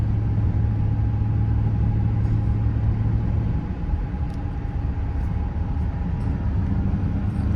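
Steady low engine drone and road rumble from inside a 2006 GMC Sierra 1500 regular cab short bed pickup with a 5.3L V8, cruising along smoothly with a constant hum and no talking.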